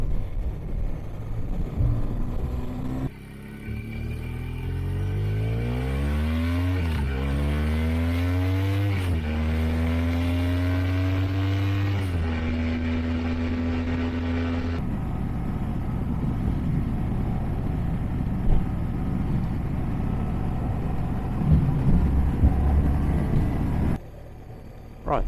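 A BMW R1200RS motorcycle engine revs up through several gears while riding, pitch climbing and dropping with each shift, then settling into a steady cruise drone with wind noise.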